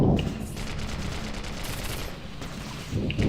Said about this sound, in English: Those launch grenades.